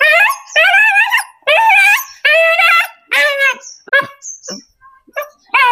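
Dogs give a run of high, drawn-out whimpers and whines close by, loud wavering cries repeating one after another with short gaps between.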